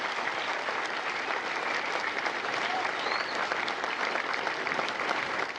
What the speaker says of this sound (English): join me in a well-deserved round of applause for the drill instructors and families of Bravo